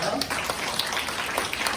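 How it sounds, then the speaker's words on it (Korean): A church congregation claps at a Sunday service at Galilee Church to bless an engaged couple; a short burst of steady applause runs under a speaking voice throughout. "한번 박수로 축복하겠습니다."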